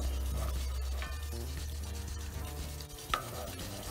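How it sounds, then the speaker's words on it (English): Homemade dog food thickening in a pot on the stove, stirred steadily with a spoon, giving soft scraping and gentle bubbling with an occasional knock against the pot; no one speaks. "Keep stirring it. As you can see, it's really starting to thicken up nicely."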